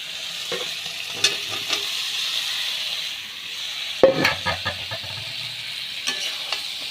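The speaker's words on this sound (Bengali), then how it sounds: "ভালো করে সোয়াবিন আলু কষে নিচ্ছি" Soybean chunks and potato stir-fried in a pan, a low steady sizzle broken by sharp spatula knocks and scrapes, the loudest near the middle, with no talking.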